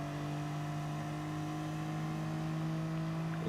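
Touring car engine in a racing video game, a steady high-pitched drone that holds its note and rises slightly near the end as VTEC engages, loud and alone with no talk.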